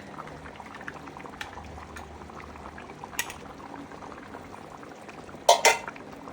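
Coconut milk goes into a simmering Kerala-style velapara fish curry, giving a quiet, steady bubbling with faint pouring, then a short sharp clatter of a utensil against the pot near the end.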